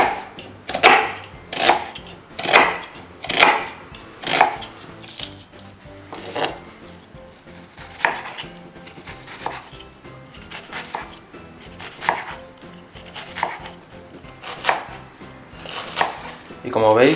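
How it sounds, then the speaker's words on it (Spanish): A knife finely chopping an onion on a cutting board for ham croquettes, a steady series of crisp close taps in quick bursts, with occasional speech between strokes. "Ahora vamos a picar una cebolla, también muy pequeñita."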